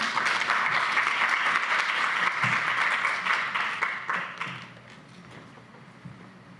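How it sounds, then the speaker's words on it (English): An audience at a panel event on Iraq applauds a speaker as he is introduced, a dense burst of clapping that starts strong and then thins out into scattered claps before fading. "Give a big hand of applause to Muhannad."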